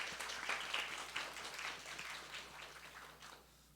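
Soft applause from a church congregation during a Sunday service, a faint, distant patter of clapping that thins out and fades toward the end.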